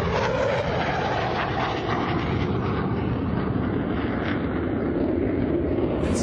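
Blue Angels jets flying air show maneuvers at the Sun 'n Fun air show, a steady loud broadband roar of jet engines overhead, continuous and unbroken throughout with no voices.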